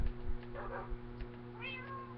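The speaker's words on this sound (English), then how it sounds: "Oh, and I got myself a cat, too." A pet cat in a video game gives a couple of short meows over a steady electronic hum, with a brief burst of game noise and faint background sounds around it.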